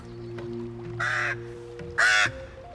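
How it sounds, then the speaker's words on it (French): Two loud, harsh crow caws, the second louder, standing alone over a low steady background hum with no talking. "Un corbeau."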